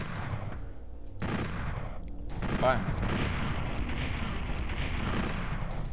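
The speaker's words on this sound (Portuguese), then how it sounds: "o tiro de bazuca dele não tá pegando em mim porque eu tô atrás dessas barras" Dense gunfire and heavy rocket-launcher blasts from Doom 64 on the Nintendo 64 roar continuously, loud and unbroken, with a single short word spoken partway through.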